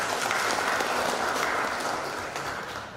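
Applause from a gathering during a regent's visit to a government office in Badung, Bali, a dense, steady roar of clapping that gradually softens toward the end.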